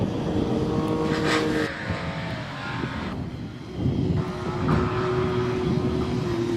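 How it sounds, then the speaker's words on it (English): A KTM Duke motorbike at a Prescott hill climb, its engine droning steadily from mid-distance, dipping briefly and then rising again as the run begins; no talk. "On the line, Dave Norris on a KTM Duke."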